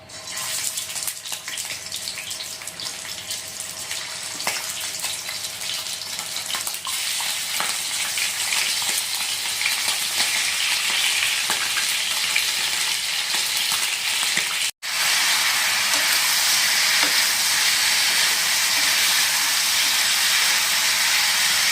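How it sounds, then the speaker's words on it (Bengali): Chicken pieces frying in hot oil on high flame, a loud continuous sizzle and hiss that builds after the first seconds, briefly cut off once, then resumes at full strength. "আর তেল গরম হয়ে গেছে, আমরা চিকেনগুলো এখন দিয়ে নিব।"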